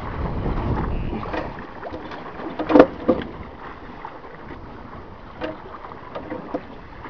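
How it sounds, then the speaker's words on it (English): A garden tiller runs with a steady rough engine drone, close to the microphone, with a few louder knocks and thumps as it works. "I'll try and do a bit of a video of this tiller working"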